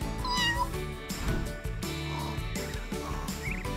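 A kitten meows in several short, high, wavering cries, close and clear over a busy background with no talking.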